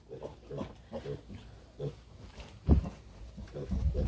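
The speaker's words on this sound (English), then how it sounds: "Are you happy to have another pig?" Short grunts and snorts of a pig come in a loose series, close by, with a few louder snuffles near the end.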